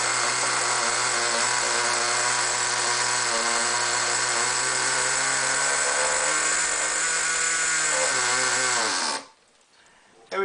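A small nitro RC truck engine runs with a loud, high buzzing drone and wavering pitch for about nine seconds, then cuts out abruptly into near silence.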